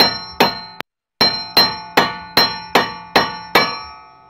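A hammer strikes metal to pop the steering knuckle off during a 2003 Dodge Durango ball joint replacement. Nine loud, sharp, ringing clangs land in a steady rhythm about every 0.4 seconds, with a brief pause after the second blow.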